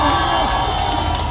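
A political campaign rally crowd in South Korea cheers and shouts loudly in one dense, continuous roar over a brief span, with no clear single voice standing out.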